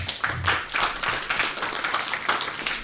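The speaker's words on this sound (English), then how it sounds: "Let us have a huge round of applause for ma'am." A gathering at an academic conference's valedictory session breaks into applause, individual claps distinct and rhythmic, moderately loud and close, filling the stretch without talk.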